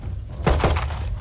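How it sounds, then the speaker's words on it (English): A swarm grenade is placed in Valorant: a brief, sharp crackling burst with a glassy shatter-like edge sounds once, close and fairly loud, over a low steady game hum. "Placing swarm grenade."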